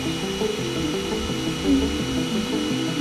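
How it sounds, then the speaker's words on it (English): A small motor whirs steadily with a thin, buzzing drone that wavers slightly in pitch, a doll's toy vacuum cleaner running close by. "Vacuum cleaner!"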